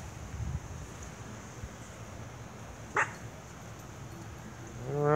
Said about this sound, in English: Dog in the backyard.